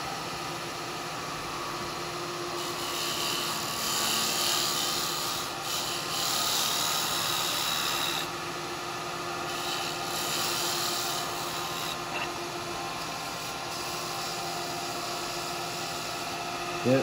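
Wet eucalyptus spinning on a wood lathe is cut with a detail chisel, giving a steady, close, hissing scrape over a faint motor hum, with slight swells in intensity and no speech.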